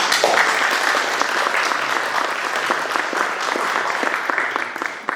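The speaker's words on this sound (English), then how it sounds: "Let's give him a round of applause" An audience at an academic book talk gives a continuous, even round of clapping, many hands close together, loud and unbroken until it tapers slightly at the very end.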